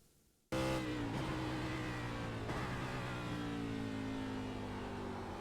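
Race car engine in iRacing at Road America, loud and steady from close by, its rough mid-pitched drone holding a constant note with a slight upward shift while running through the carousel in first gear.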